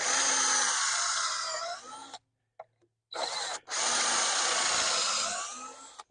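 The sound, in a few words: screws driven into wood with a power drill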